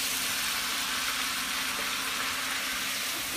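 Peppers and onions sizzle in a pan for a home-made curry, a steady, close, bright frying hiss that holds evenly throughout with no talking.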